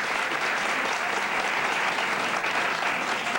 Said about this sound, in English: You can applaud them all.